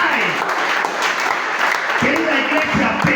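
A church congregation claps loudly and continuously, the dense applause filling the room while a voice speaks over it partway through.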